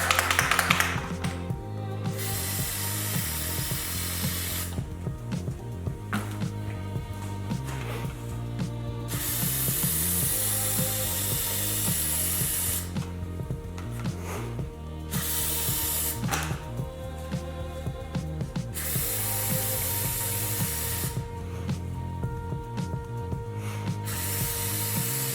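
A spray paint can is sprayed onto a PS5 console cover using thick paint, in several long hissing bursts separated by short pauses, with mechanical clicks and rattles of the can between them, close and fairly loud.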